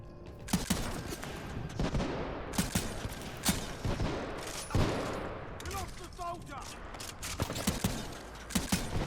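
Repeated explosive blasts and gunfire from grenades going off in Titanfall 2 gameplay, sharp loud bursts spaced irregularly through busy game sound, with a voice talking faintly underneath.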